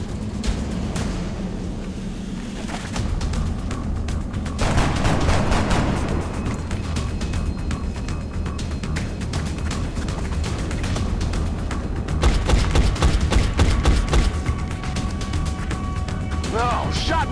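Loud, crackling bursts of gunfire and impacts from the turn-based strategy game XCOM: Enemy Unknown, dense sharp reports mixed with game effects and background music, with a voice talking over part of it.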